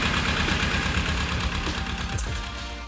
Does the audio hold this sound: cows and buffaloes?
no